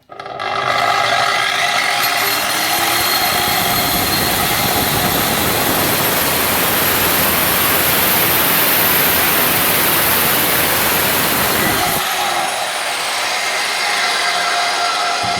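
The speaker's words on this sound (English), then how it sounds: "let's see how it cuts on the aluminium" A Parkside PWS 230 C3 angle grinder cuts through aluminium with a loud, continuous whine and grinding roar held for about eleven seconds before it eases off, with no speech.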